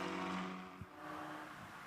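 Race cars of the Ultimate Formula Cup on a wet Magny-Cours circuit, engines droning and revving at a distance with a brief thump mid-way, a steady hazy roar of spray and wind underneath.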